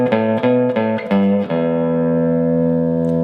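An electric guitar plays a short pentatonic lead phrase, several quick picked notes before a final note rings out and sustains with a slightly processed tone, loud and close with no talking.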